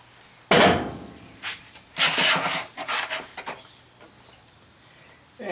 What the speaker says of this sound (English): This is an 1/8-inch riddle. It's nothing more than a sieve. It breaks up the sand.